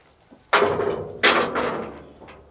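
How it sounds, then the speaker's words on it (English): A horse trailer door being swung shut: a single solid slam, followed moments later by a second louder bang, each ringing briefly before it fades, heard close up in an otherwise quiet setting. "I'm going to walk around to close the door"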